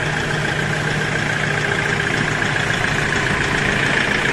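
A 2009 Hyundai Porter II with a D4CB intercooled turbo diesel engine, Euro 4, idles nearby with a steady, loud mechanical rumble and a faint rattling clatter, continuous and without talk.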